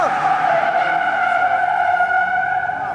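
A car drifting with tires skidding, giving a sustained, loud, sliding squeal that holds steady for several seconds without breaks, close by and with no speech over it.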